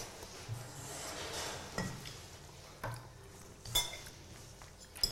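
Eggs beaten with a utensil against a bowl, irregular clinks and scraping taps with a few sharper knocks, close and moderately quiet, with no talking over it.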